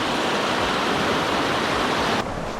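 Creek water rushes steadily through an abandoned tunnel, a dense, loud, continuous wash of flowing water with no breaks, heard alone.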